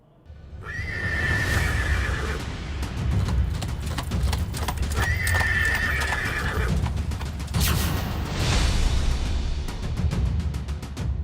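A horse ridden by Tejashwi Yadav around Mokama, Bihar, whinnies loudly twice, spaced a few seconds apart, while its hooves clatter in a steady clip-clop under a continuous outdoor rumble.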